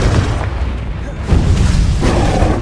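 Spells burst in the video game Hogwarts Legacy with continuous loud booming explosions and rumbling blasts, one after another, a heavier impact swelling midway through.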